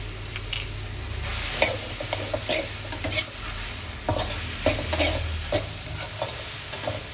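Garlic pepper chicken stirred in a hot pan for Thai gai pad kratiem prik thai, with steady close sizzling and frying broken by repeated scraping strokes of the utensil, no voices.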